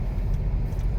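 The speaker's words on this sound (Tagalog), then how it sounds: "dito ako sa kalagitnaan ng trapikan sa EDSA." Dense low rumble of heavy road traffic on EDSA, idling and crawling cars and buses blending into a steady, close drone for about a second.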